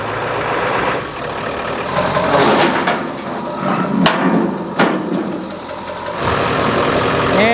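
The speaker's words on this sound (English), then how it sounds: "Now we're going to go ahead and pull up the truck a little bit so we can take it off the ramp." A 1995 Ford F250 OBS truck with a 7.3 diesel engine idles with a clattering, knocking rumble as it pulls forward on a ramp, close and steady, with sharp metallic clanks partway through.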